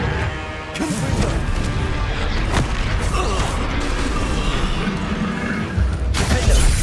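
Confringo fire spell from the video game Hogwarts Legacy bursting into loud booming blasts, with crashing impacts and sharp hits layered over dense, continuous combat noise throughout.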